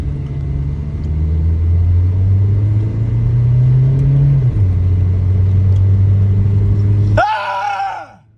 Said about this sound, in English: 1995 Geo Prizm, same as the Toyota Corolla, 0 to 60 pull